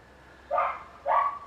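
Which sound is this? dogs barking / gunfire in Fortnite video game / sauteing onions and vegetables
dogs barking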